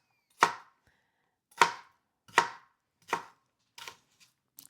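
Knife chopping onion on a cutting board: six crisp, separate chops at an unhurried, slightly uneven pace, close and clear against silence, the last few quieter.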